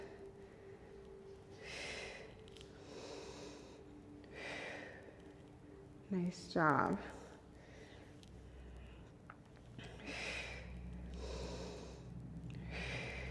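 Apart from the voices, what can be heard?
instructor breathing during a Pilates bridge exercise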